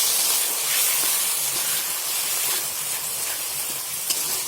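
Water splashed into hot tomato masala in a kadai for chicken kosha sets off a loud, continuous steamy hiss and sizzle, close and steady, rising and falling slightly over several seconds.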